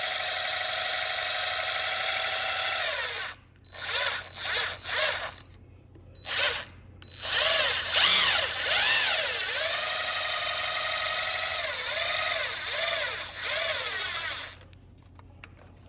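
A Minn Kota Ulterra trolling motor's electric trim motor whirs as it feeds the drive belt back up, running in several on-off bursts with rising and falling pitch sweeps, close and loud, with no talking.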